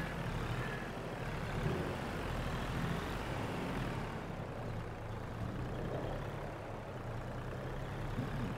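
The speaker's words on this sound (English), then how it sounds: "Now I use the small tractor and the small trailer for in here" Small tractor pulling a small trailer in the farming game Farming Simulator 22, a steady low engine drone that holds at an even level throughout, with no talking.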